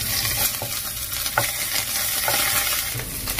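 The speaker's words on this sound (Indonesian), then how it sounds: "Ini ikan asinnya mau tak goreng sampai kering banget." Salted fish fries in hot oil, giving a dense, continuous crackling sizzle up close with occasional stirring scrapes and no voices.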